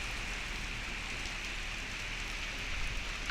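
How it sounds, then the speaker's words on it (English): Heavy rain falls outside with leaves blowing about, heard from indoors as a steady, even hiss that stays soft and constant throughout. "It's raining pretty hard outside right now."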